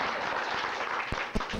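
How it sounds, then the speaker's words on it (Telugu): Applause at a New Year's Eve get-together in Tarnaka, a short burst of crowd clapping that sounds close and fairly loud, with a couple of sharper claps standing out near the end. "చప్పట్లో."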